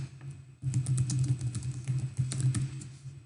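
A search is typed on a computer keyboard, a quick close burst of light key clicks starting after a brief pause and running to the end, with no voice.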